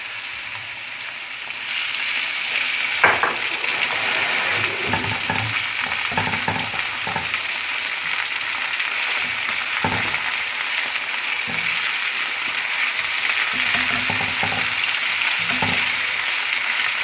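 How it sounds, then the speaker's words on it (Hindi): Minced keema sizzles and fries steadily with onions in a pan, a continuous bright crackle with occasional louder stirring scrapes and clatters, close and without talk. "अब इसमें हम कीमा डाल के फ्राई करेंगे।"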